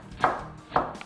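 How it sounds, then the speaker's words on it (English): A kitchen knife minces cabbage on a cutting board with two distinct chops about half a second apart, then a lighter tap, close and crisp. "we're gonna mince the cabbage up"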